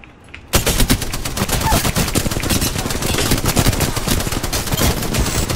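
Rapid automatic gunfire from the video game Apex Legends bursts in after a short pause and continues densely and loudly for several seconds, with overlapping shots and no pauses.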